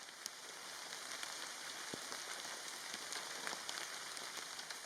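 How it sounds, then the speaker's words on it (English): Steady rain falls in the forest of Kaeng Krachan, a soft, even hiss of drops on surfaces with scattered faint ticks, quiet and continuous with no voices. "The rain returned, first as a drizzle and then turning into full-blown rain"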